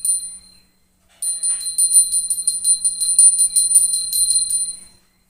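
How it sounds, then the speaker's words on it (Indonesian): A magic temple bell rung slowly and softly, a clear bright ringing tone that sounds once briefly, then after a pause rings repeatedly in a steady shimmering series before fading out, heard alone without talk. "ia membunyikan genta itu dengan perlahan dan amat lembut."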